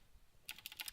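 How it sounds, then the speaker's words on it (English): A burst of sharp computer keyboard clicks, with the spacebar pressed repeatedly, starts halfway through after near silence. The presses come in a quick, uneven rhythm and sound close and crisp. "there goes my keyboard spacebar just going blam ba dum bump"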